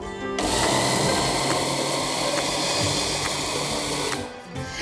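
An electric kitchen chopper blends garlic and chili for sambal, starting abruptly with a loud, steady whirring motor hum that runs continuously before cutting off near the end.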